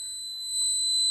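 A steady electronic alarm tone from an accident-detection circuit built on an 8051 microcontroller sounds loud and continuous, a high sustained beep with no talking.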